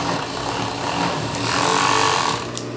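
A sewing machine runs steadily, stitching a reinforcing seam across the crotch of a pair of underwear, its close, loud mechanical whir continuous and even with no talking.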